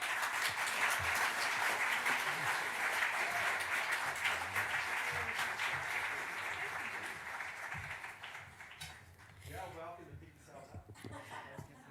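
Audience applause at a fair play symposium livestream, steady clapping from a seated crowd that gradually thins and fades, with some chuckling and a voice speaking near the end.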